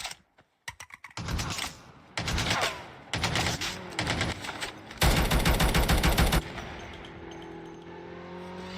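Bursts of automatic gunfire in a Call of Duty Mobile battle royale match, shooting through walls, come as several loud rapid volleys separated by short gaps. The longest sustained burst falls near the end, followed by quieter game ambience.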